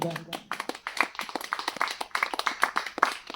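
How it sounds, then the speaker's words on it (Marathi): A group of people clap their hands together, producing a loose, uneven run of sharp claps that builds and continues with voices mixed in. "चला तर टाळ्या वाजवा सर्वांनी एकदा"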